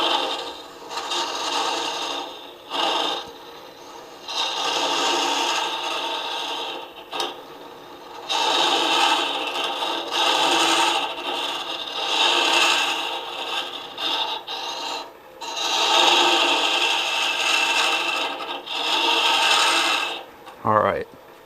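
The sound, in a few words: hollowing wood ornament on lathe with Laurent Niclot mini hollower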